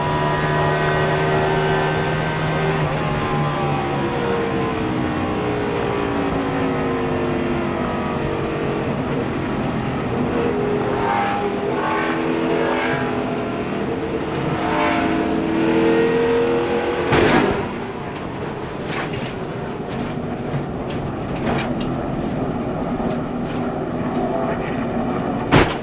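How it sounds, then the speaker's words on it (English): Leffler's NASCAR race car at the 2005 Pocono 500 on track, its engine droning loud and close with shifting pitch as a tire cuts down, a sharp bang around the seventeenth second, then continued roar. "Listen to that tire cutting down here."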